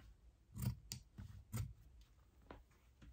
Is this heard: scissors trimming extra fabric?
yes